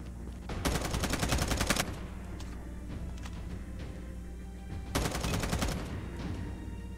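Automatic gunfire sounds in Call of Duty Mobile, with two rapid bursts of rattling shots, an early longer one and a shorter one later, over a steady game background hum.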